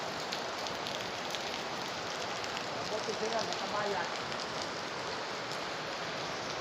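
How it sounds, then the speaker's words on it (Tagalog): Heavy rain pours steadily over Manila, a dense broadband hiss of water on surfaces that holds at an even level throughout, with a voice speaking faintly beneath it. "tuloy-tuloy yung lakas ng ulan"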